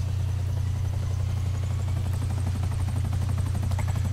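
A helicopter in GTA 5 Online starts up and runs, its rotor producing a steady low rhythmic thumping with a continuous engine drone, close and constant throughout.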